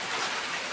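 Heavy rain pours down outside, a brief, even, dense hiss of falling drops with no voices.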